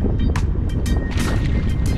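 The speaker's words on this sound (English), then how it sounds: "And it's still windy." Strong wind rumbles across the microphone aboard a fishing boat at Marina del Rey before a storm, loud and constant with occasional sharper gusts.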